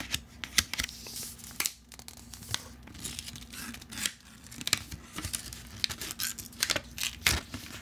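Paper packaging peeled off a Google Pixel Fold box, close-up crackling and tearing in irregular bursts, with a faint steady hum underneath and no talking.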